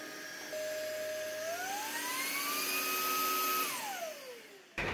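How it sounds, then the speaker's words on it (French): An Itenic U20 cordless stick vacuum cleaner runs with a steady whine that rises in pitch as it switches to a higher power mode, holds, then winds down before a click at the end. "L'aspirateur Itenic U20, il est équipé par 3 modes, comme vous le voyez là sur la vidéo."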